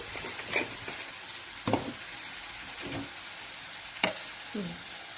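Onions fry in a pan with turmeric, making a faint steady sizzle with occasional soft scrapes and stirring clicks, and no voice.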